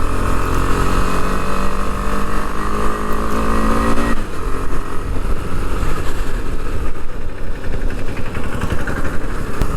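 KTM 250 Adventure motorcycle from 2021 riding in city traffic, its loud engine and exhaust drone held steady, then dropping in pitch as the revs ease midway, with wind and road noise close to the mic.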